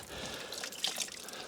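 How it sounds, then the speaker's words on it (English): Water drips and trickles off a wet mass of pressed sawdust and coffee grounds squeezed in a compound lever press, a few soft close drips over a faint steady run-off with no voices. "Some of that water run off."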